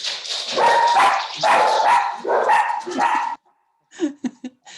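Several dogs in a home bark and yip loudly in repeated bursts for about three seconds, then a short pause before a few fainter, quicker yelps.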